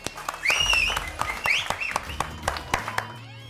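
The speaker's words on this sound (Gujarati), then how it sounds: "એ વગાડો તાળી યાર" Scattered hand clapping from a small group in a TV drama scene, a short burst of uneven claps mixed with cheers and voices.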